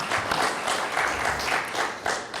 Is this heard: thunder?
no